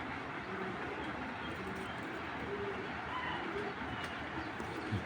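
A racing pigeon cooing and shuffling its wings while held in a hand, a soft continuous coo and rustle close by, with faint background noise and no clear speech.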